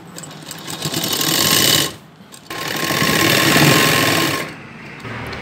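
A sewing machine stitches a double-folded binding strip onto the curved armhole of a girl's top in two steady, close whirring runs separated by a short pause. No one speaks.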